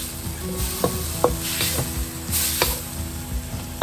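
Soft mango peels are stirred and mashed in a hot sizzling pan, with a steady fry hiss broken by scraping strokes of the spoon, close and alone.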